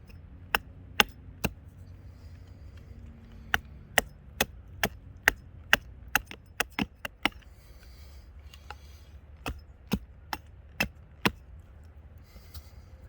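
A Trail Boss axe strikes wood in a long series of sharp, close chops, some in quick runs and others spaced apart, as a stick is sharpened, rounded off and notched outdoors.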